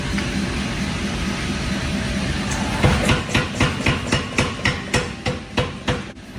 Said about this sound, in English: This was my first time ever using a power hammer